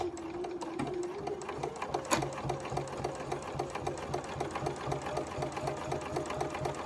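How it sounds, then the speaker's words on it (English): A sewing machine running a short back stitch on a fabric wristlet or lanyard strap, its needle whirring in a quick, regular rhythmic chatter close by, steady for several seconds. "put our foot down, and we will go ahead and start to stitch. Do a little back stitch."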